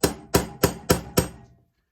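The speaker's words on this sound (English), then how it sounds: "I'm going to hit a little punch on there just to give me a nice little mark for" Five evenly spaced, sharp metallic taps of a hammer on a center punch against metal mark a drill spot, each ringing briefly before the next blow, close and clear with no talking.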